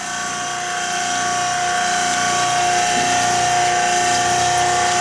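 A pump flushes oil through the crankcase oil galleries of an antique engine, holding a steady, loud mechanical whir with a constant tone and faint gear-like rattle throughout.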